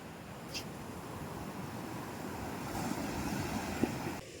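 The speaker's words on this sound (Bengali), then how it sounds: "ঢেউ দেখো" Sea waves wash onto a beach at Bagda, a steady close rush of surf mixed with wind buffeting the microphone, with no speech over it.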